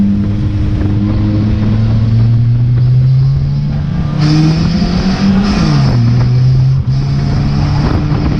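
Several loud race car engines roar and rev together at the start of a race, their pitch climbing and shifting as they accelerate hard, close by.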